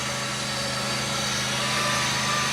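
A chainsaw runs continuously at a steady high-pitched drone, close and loud, during a coastal expedition, with no voices over it.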